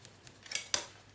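Scissors snipping a small strip from a piece of leather for a sheath loop, two quick close cuts, the second sharper, in an otherwise quiet room.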